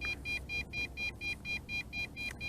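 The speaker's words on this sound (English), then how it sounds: "it's coming back, constant beeping. It is doing a return to home." A JJRC X8 Cetus drone beeps steadily while flying back on return-to-home, a quick regular series of short high beeps over a faint background hiss.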